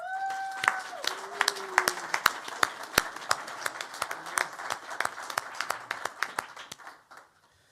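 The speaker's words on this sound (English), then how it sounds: "give these entrepreneurs a huge round of applause" An audience at a Detroit civic grant event bursts into applause for entrepreneurs; brisk, steady clapping fills the room for several seconds before stopping abruptly, with a speaker's voice briefly over the start.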